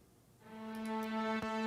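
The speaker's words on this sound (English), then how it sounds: "that's going into Realm, which is a reverb by Native Instruments" Orchestral string samples washed in Native Instruments Realm reverb swell from near silence into a sustained, harmonically rich chord that holds steady, with a faint brief accent near the end, alone and moderately quiet.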